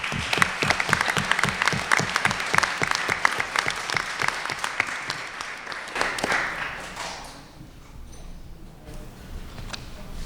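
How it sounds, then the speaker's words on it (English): Audience clapping at a student recognition ceremony, a round of brisk applause from a modest crowd that thins out and fades to a few scattered claps. "Let's give a round of applause."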